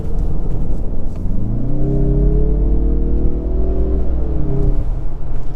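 Mazda CX-30 Turbo accelerating hard in sport mode, its engine note rising steadily in pitch as it pulls, over constant road rumble inside the cabin, loud and without talk.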